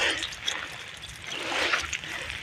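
Water trickling and splattering onto vegetable plants in a garden as they are watered, a soft, uneven dribble close by with small splashes rising and falling over a couple of seconds.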